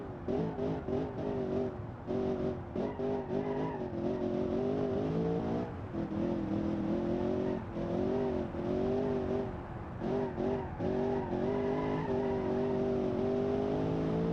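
In the BeamNG.drive racing game, an off-road muscle car based on a Mustang roars around a track with a chicane. Its engine drones continuously, with repeated revving and shifts in pitch, loud and unbroken, with no talking.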